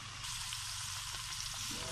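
Chicken frying with onions in a pan, a constant, even sizzling hiss at moderate volume with no other sounds.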